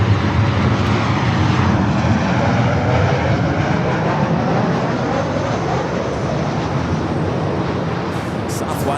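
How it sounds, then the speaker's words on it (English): A jet airliner takes off at Los Angeles International Airport, its engines making a loud, steady, broadband roar that fills the whole stretch with little change, close and dominant without any talk. "we see the United heavies taking off here on the north side"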